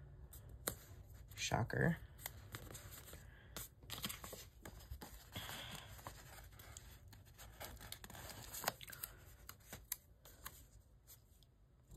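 Scissors snip paper for a planner spread, with several short cuts and rustling handling sounds under occasional speech.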